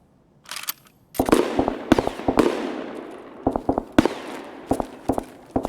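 AKS-74U gunfire in the game Escape From Tarkov, sharp single shots and short clusters of cracks echoing out across an open area, some spaced apart and others in quick pairs.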